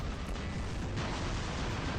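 An explosion in the mech combat game War Robots: a dense, steady roar of blast noise that fills the full two seconds at moderate loudness, with no break and no clear single impact.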